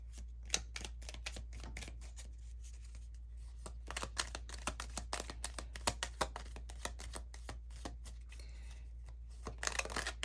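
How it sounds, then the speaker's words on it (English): A deck of moon magic tarot cards is shuffled up close: rapid bursts of crisp card flicks and riffles, loud against a quiet low hum, repeating with short pauses and no talking. "let's get you some moon magic cards"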